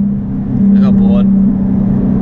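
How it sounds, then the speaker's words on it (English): A Nissan 370Z accelerates hard and breaks traction, its steady engine drone underpinned by a brief, squealing tire chirp in the middle, heard close from inside the car. "I actually broke traction"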